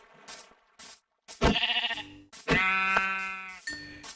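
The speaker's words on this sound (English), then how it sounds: "Oh, come on, brown sheep." Several sheep bleat in Minecraft, a run of short, close, loud blocky bleats with brief gaps, then longer wavering cries, with no talk over them.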